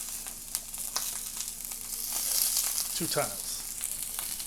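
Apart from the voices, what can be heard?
garlic frying in a pan for salsa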